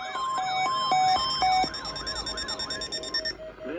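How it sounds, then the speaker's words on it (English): A NOAA weather radio warning alarm attention signal plays as a loud, close electronic sequence of warbling, sweeping tones and sharp beeps that shift into rapid pulsing bursts, with no voice over it. "The attention signals you just heard will automatically activate special receivers to warn of the impending hazard."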